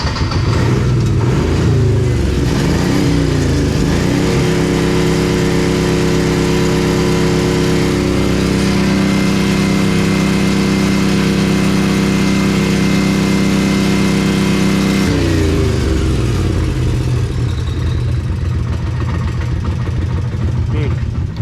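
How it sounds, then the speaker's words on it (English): Kawasaki Mule 2510 utility vehicle engine running rough, a loud steady mid-pitched drone that roughens and surges unevenly at the start and again near the end, continuous throughout with no talk. "I don't know, this engine's just not happy."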